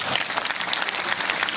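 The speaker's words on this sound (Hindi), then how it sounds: "आपकी तालियों की गूंज बताएगी कि आप किस प्रकार से प्रेरित हुए हैं" A crowd claps steadily, a dense, even wash of applause with no voices above it.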